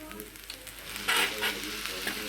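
Corn fried rice with soy sauce being stirred and fried in a pan: a continuous sizzle with scraping stirring strokes and a brief louder hiss burst midway.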